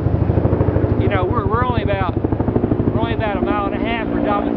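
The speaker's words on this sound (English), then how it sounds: "a Black Hawk helicopter just flew over" Black Hawk military helicopter flying overhead near an air force base, a loud steady rotor drone with rhythmic chopping pulses throughout, while someone talks over it.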